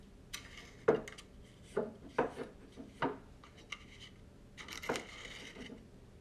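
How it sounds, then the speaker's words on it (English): The outer ring of an Edison diamond disc phonograph reproducer is unscrewed, giving faint, close metallic scrapes and clicks in a handful of short, irregular bursts, with quiet pauses between them. "So you take it out by unscrewing this outer ring."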